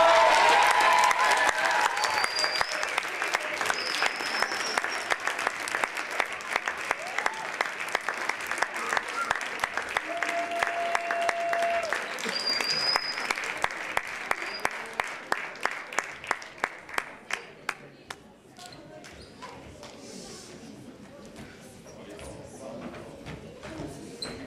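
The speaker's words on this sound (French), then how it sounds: "je vous demande d'accueillir avec un tonnerre d'applaudissements cette classe de la Courneuve" A crowd gives loud, sustained applause to welcome a school class from La Courneuve, the clapping thinning out toward the end.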